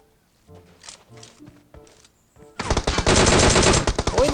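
PUBG Mobile gunfire erupts as a loud, dense burst of rapid automatic shots that runs to the end, after a stretch of quieter game sounds and footsteps.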